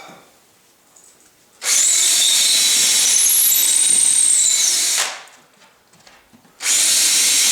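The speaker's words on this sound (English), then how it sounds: "go ahead and drill the holes" A power drill bores holes through a workbench drawer front for handle mounting, two loud whining runs of a few seconds each separated by a quiet pause, with no speech.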